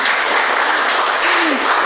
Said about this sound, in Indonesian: Tepuk tangan dulu ah buat Tuhan.